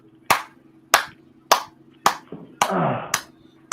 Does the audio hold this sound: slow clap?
yes